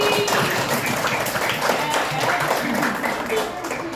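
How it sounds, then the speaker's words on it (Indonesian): Children in a classroom clap together as a group, a steady busy patter of hands running through the whole few seconds at moderate loudness, with some voices mixed in. "tepuk tangan buat Abi."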